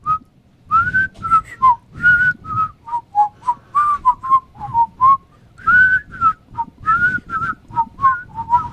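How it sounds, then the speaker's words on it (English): One man whistling a two-toned, warbling melody in short bursts and phrases, close and clear with brief pauses between notes, no talking over it. "Two-toned whistle from one man"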